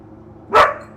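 A dog gives a single short, close bark against a quiet background.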